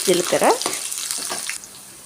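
Cumin seeds fry in oil in a pot on a stove while chicken fry is being made, giving a short burst of crackling and sizzling with a few stirring clatters that fades after about a second and a half.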